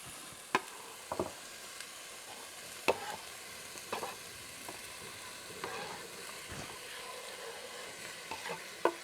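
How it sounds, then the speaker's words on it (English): Steady sizzle of onions and peppers frying in a hot pan, broken by occasional sharp clinks and scrapes of a utensil stirring. "that smell is so good when you put in onions and peppers and you're frying something up"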